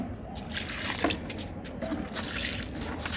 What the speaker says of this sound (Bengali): এই যে গাছে জল দিচ্ছে